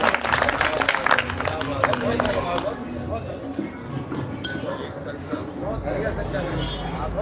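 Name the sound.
audience applause at a Hindi poetry recital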